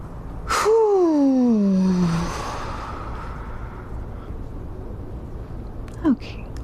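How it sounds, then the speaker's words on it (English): A loud, drawn-out exhale with a falling voiced tone, made during a hatha yoga flow to release tension, lasting about a second and a half, then quiet room tone and a brief soft breath near the end. "you can make sound with your exhale"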